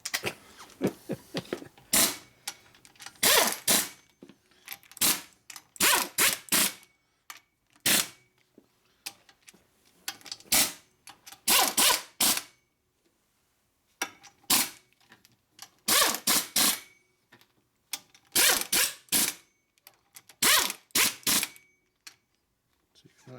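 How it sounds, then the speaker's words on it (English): A 175 foot-pound torque tool tightening the flywheel of a 2003-06 Harley-Davidson Twin Cam Softail lower end during a rebuild, heard as repeated bursts of sharp ratcheting clicks separated by pauses. "We take our 175 foot-pound torque tool here and"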